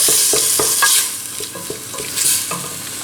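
Salted meat browns in a pan for Tunisian pasta in tomato sauce, a loud close sizzle punctuated by a rapid series of stirring scrapes and clacks that ease off midway, with no voices.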